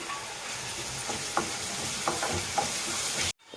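Chopped vegetables including beans frying with ginger-garlic paste for fried rice, a constant loud sizzle broken by several sharp spoon scrapes and clinks, cutting off abruptly at the end.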